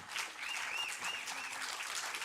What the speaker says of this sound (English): I think it's time for us to actually give you a standing ovation